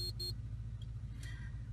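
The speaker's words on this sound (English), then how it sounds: "So we heard three beeps, meaning the ShiftSense Pro is disengaged now" Two quick electronic beeps and a fainter third beep from a ShiftSense Pro transmission shift controller sound over a steady low engine rumble inside a Toyota Tacoma.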